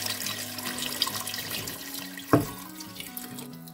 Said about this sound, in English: Now I'm going to pour in these 4 cups of chicken broth.